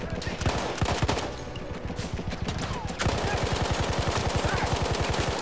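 Rapid automatic gunfire in the Battlefield 1 video game, dense and continuous bursts of machine-gun shots that run the whole time and grow steadier and louder partway through.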